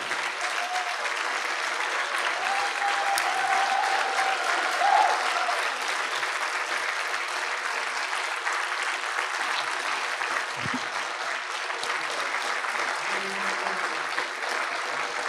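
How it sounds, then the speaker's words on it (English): A standing audience applauds at an evening event, steady dense clapping that holds for about fifteen seconds without a break, loud and continuous, with no voices over it. "Can we stand and applaud them"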